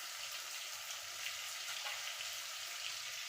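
Curry leaves sizzle in hot oil in a pan for a brinjal dish, a steady, faint frying hiss heard close up.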